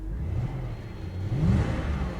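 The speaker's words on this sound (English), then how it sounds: "Let's give it a few revs and let's see how it responds." A Pontiac Solstice engine at a Copart auction lot, just revived after a dead battery, revs up twice in short throttle blips, the second louder, heard close and alone with no talk.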